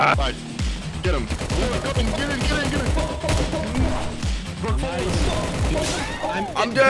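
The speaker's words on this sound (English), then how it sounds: "They're shooting me!" Video game gunfire crackles in rapid bursts during a prison break, dense and loud, with players shouting and talking over it throughout.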